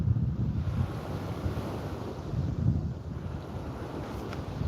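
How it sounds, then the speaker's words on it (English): Wind buffeting a microphone over choppy sea water, a low continuous rushing roar with gusty swells and no voices. "it's windy and it's choppy"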